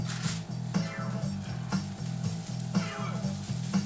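Potatoes, peppers and onions fry in melted butter in a pan, a constant close sizzle broken by a regular rhythm of scraping stirs, roughly one each second, with no talk.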